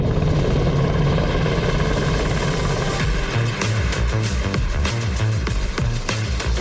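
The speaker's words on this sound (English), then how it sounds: "Here's Elon Musk dropping by from a chopper." A helicopter carrying Elon Musk flies in over Louisiana marshland, its loud, steady rotor chop and turbine whine continuous throughout, with a rhythmic thumping that grows more pronounced midway.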